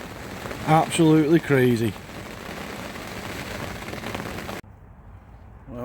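Heavy spring rain lashes down in the wind beside a lake during a carp fishing trip, a dense, steady hiss close around the microphone. Someone speaks briefly at the start before the downpour carries on alone.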